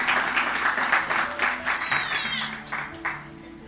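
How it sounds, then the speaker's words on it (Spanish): Church congregation applauding in praise, a dense wash of clapping from a room full of worshippers with cheering voices mixed in, steady and fairly close before tapering off near the end. "Denle un aplauso al Señor por eso."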